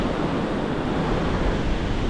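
Large storm-driven ocean waves roar at a seashore in the late afternoon, a loud, continuous surf wash mixed with wind noise, with no voices.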